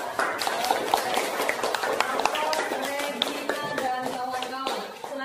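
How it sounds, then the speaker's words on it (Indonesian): Applause for a student group in a school classroom, a dense run of hand claps lasting several seconds with voices and chatter mixed in before it fades out. "mari kita beri aplaus dulu untuk kelompok 2"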